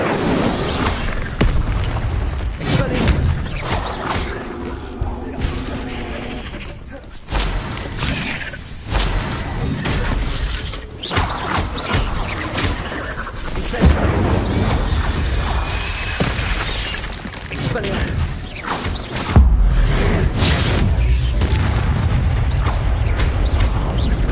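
An Incendio fire spell in Hogwarts Legacy erupts amid repeated booming blasts and crackling, crashing impacts during a spider battle, loud and dense throughout with no talk.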